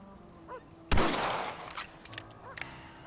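A single loud rifle shot from the Red Dead Redemption video game cracks out and rings into a decaying tail, followed by a few lighter clicks and knocks.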